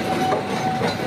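A Majapahit passenger train passes close by with loud, steady clickety-clack of wheels over rail joints and a broad rumble, heard alone for a short moment.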